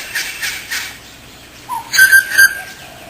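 Birds at a backyard bird bath give a few short whistled chirps, then a louder burst of clear calls close by, with quiet gaps between them.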